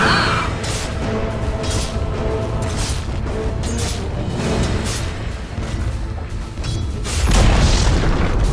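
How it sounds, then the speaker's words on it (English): A Dota 2 tower collapses in a sustained roar of booming, crashing destruction, loud and dense throughout, with a fresh heavy low-end burst near the end. "Dire's top tower has fallen."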